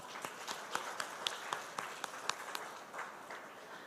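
An audience at a road safety seminar claps together, a steady patter of many hands with a few sharper claps standing out, moderately loud and continuous throughout.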